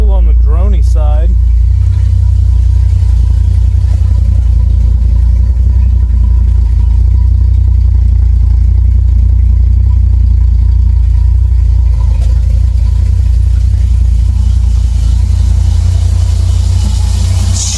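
A 1967 Chevrolet Bel Air fitted with a full exhaust runs with a loud, steady, deep droning rumble that holds throughout, with brief voices near the start.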